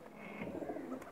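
Pakistani pigeons coo softly in a loft with a gentle, low burbling call. The sound is faint and close, with no talk over it.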